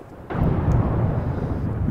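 Thunder from a storm in The Sims 4 Seasons life-simulation game: a sudden loud rumbling roll breaks in after a brief quiet moment and keeps booming steadily to the end, with no talking over it.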